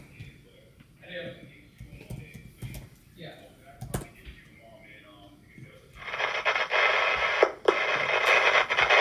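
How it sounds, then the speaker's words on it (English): Dense, loud radio-style static bursts in after several seconds of quieter clicks and faint sounds, then holds as a steady hiss to the end. "We're gonna add some static."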